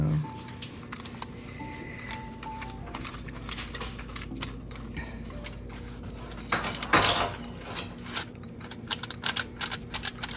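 A spoon spreading olive oil over flatbreads for za'atar flatbread pizza, with soft scraping and light clinking taps of metal against the bread and pan, close and quiet, with a few brief louder knocks.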